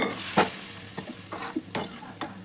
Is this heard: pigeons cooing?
no